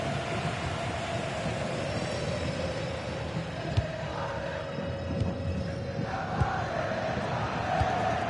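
Football stadium crowd at a Copa del Rey round-of-32 match, a continuous broad roar of thousands of fans with a rising tense swell and scattered shouts, loud and enveloping.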